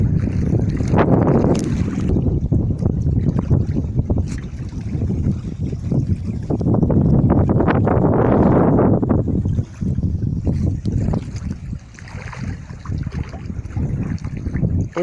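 Outdoor ambience on the bank of the Itapecuru River at Rosário, Maranhão, Brazil: steady moving water and gusty wind buffeting the microphone, continuous and fairly loud throughout with no talking.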